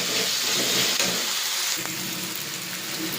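Crab curry fries in a pan with a loud, steady hiss and sizzle, close up and unbroken, with no speech.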